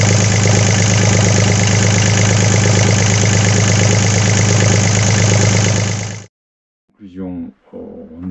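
Volvo Penta inboard diesel on a sailboat ticks over in neutral, a loud steady close-up idle with even knocking pulses for about six seconds, then cuts off abruptly, leaving brief silence before a few scattered sounds.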